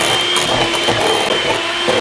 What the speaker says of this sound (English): This next section is a montage of me whisking